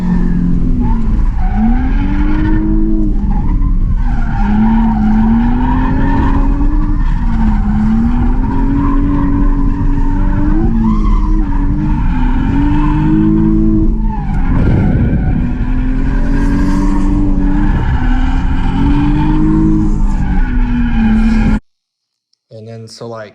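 A Nissan Z drifts through a hot lap event, its engine wailing continuously with tire squeal layered over it. The sound is loud and sustained, then cuts off abruptly near the end.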